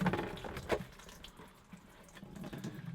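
Water pours and splashes steadily from a caravan toilet flush tank as it is emptied out, a close, continuous running-water sound with a brief louder surge, and no talking.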